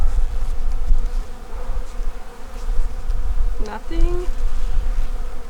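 Bees buzzing in a beehive opened for inspection, a steady insect hum across the whole stretch with a few brief louder passes of single bees near the ear.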